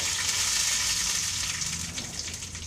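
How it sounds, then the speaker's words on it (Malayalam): Mustard seeds and curry leaves sizzle steadily in hot oil, a loud, dense frying hiss that holds close and continuous before easing slightly toward the end, with no voices present. "ഇതിലേക്ക് കടുക് ഇട്ട് കൊടുക്കാം."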